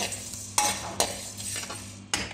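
Ginger, garlic and cumin dry-roasting in a pan at home, with a soft steady sizzle and several sharp clinks of a spoon stirring against the metal, close and moderately quiet.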